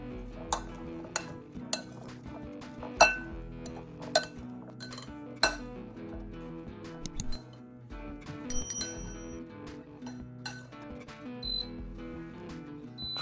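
A spoon clinking against a bowl while mixing ground black pepper, turmeric, onion powder and salt, a series of sharp close ringing taps and scrapes at irregular intervals, no talking.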